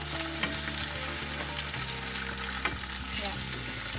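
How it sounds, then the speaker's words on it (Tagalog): Chopped tomatoes sautéing in a frying pan for pork lomo, a steady close sizzle and crackle with occasional utensil scrapes and taps, continuous throughout with no talking. "isusunod natin na igigisa ay yung ating kamatis"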